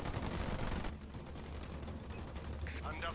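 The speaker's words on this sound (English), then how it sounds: "Under fire from ground troops." Ground troops firing in the real-time strategy game Halo Wars 2, a dense rattle of battle noise that is loud at first and then thins into steadier fire under game ambience and brief unit chatter.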